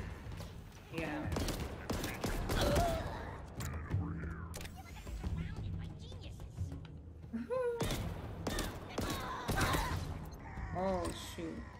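Bursts of gunfire from a weapon in the video game Halo Infinite, sharp repeated shots in clusters over game effects, with a voice talking throughout.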